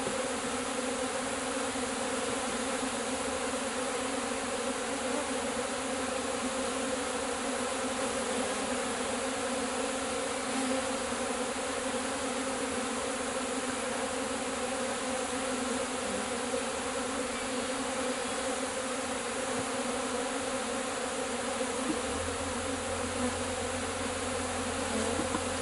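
Dense, continuous buzzing of a honey bee swarm exposed during a hive cut-out removal, a loud close steady drone with no pauses and no voices.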